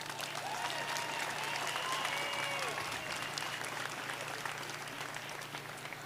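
A crowd applauds at an outdoor school moving-up ceremony, steady clapping throughout, fairly distant, with a low constant hum underneath.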